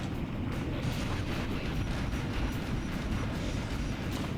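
Tank cannons firing in the Shadow the Hedgehog video game make a dense, continuous barrage of booming blasts that run together into a loud, rumbling roar throughout.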